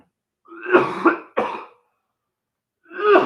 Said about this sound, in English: I was blowing my nose and coughing